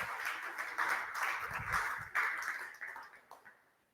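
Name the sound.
audience clapping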